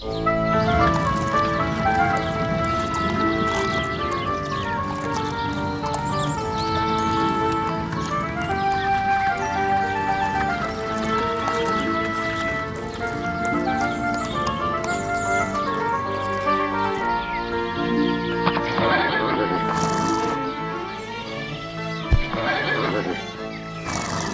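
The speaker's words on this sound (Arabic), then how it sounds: "انظري يا أمي، ماذا تفعل الخيول؟" Horses neighing repeatedly amid steady hoofbeats and clip-clopping, a busy, continuous scene with layered whinnies and a music-like bed running throughout, loud and close.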